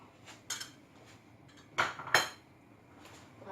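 Metal spoon clinking against a pot of boiling water as spices go in: a few sharp clinks and taps spread over a few seconds, close and fairly quiet.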